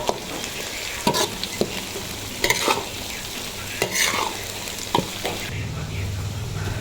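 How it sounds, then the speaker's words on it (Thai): Garlic fries in hot oil with a steady sizzle, broken by sharp scrapes and knocks as it is stirred in the pan; crackling swells near the end, close and fairly loud, no talk. "เจียวกระเทียมเจียวตอเลยค่ะ"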